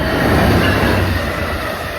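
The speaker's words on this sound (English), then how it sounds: "We're getting on an Amtrak Northeast Regional back to Washington, D.C." An Amtrak Northeast Regional train at BWI rail station rumbles steadily as it rolls past, a loud, continuous broadband roar with faint wheel noise and no talking.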